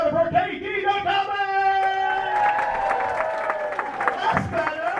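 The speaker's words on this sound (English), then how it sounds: "Put your hands together for Katie the Comic!" A comedy club audience at Liberty Labs claps and cheers for a stand-up comic, a dense crowd roar with music-like tones and a host's voice over it.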